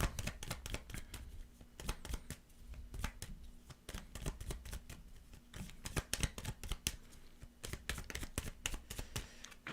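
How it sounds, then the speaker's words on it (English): Tarot cards being shuffled by hand, a steady run of soft riffling clicks and flutters close up and fairly quiet, with no talking. "Let's pull two more cards here."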